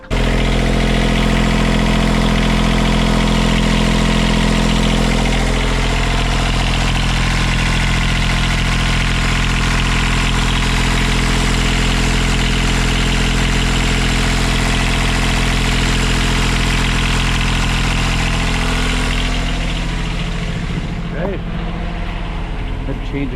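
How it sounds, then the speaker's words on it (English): A boat engine idling at 1700 RPM while warming up after a water pump repair: a loud, steady, close drone that holds unchanged for about twenty seconds, then shifts near the end as other noises break in. "we're doing 1700 RPMs. Gonna let it run for a while, warm up."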